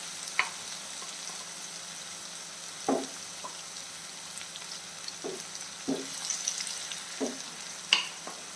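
Prawns laid one by one in a hot pan fry with a steady soft sizzle, with a few sharper crackles and clinks spaced every second or so, close and moderately loud.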